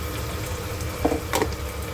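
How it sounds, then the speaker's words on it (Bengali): Catla fish pieces fry in a pan with a splash of water added, giving a continuous close sizzle and hiss broken by a couple of brief stirring scrapes. "এটাতে একটুখানি জল দেব, দিয়ে এটাকে একটুখানি ভাজা ভাজা হতে দেব"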